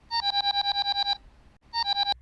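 A telephone rings after a number is dialed: a fast train of bright electronic trill pulses runs for about a second, pauses, then starts again, clear and fairly close.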